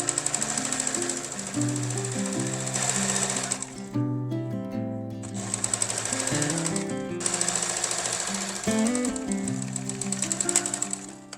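Sewing machine hemming the raw edge of a fabric bonnet, running in steady rapid bursts with brief pauses, close and loud, with no voices.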